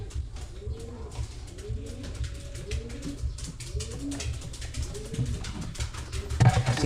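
Racing pigeons in a loft give repeated soft, throaty coos in a steady rolling rhythm, close by over a low background murmur.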